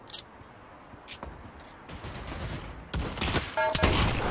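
Gunfire in the Pavlov VR shooting game: a rapid burst of shots that grows louder toward the end, with scattered clicks earlier and no talk.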